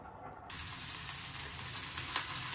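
Onions dropping into a hot pan for a kidney bean curry, a sudden burst of sizzling that stays loud and steady.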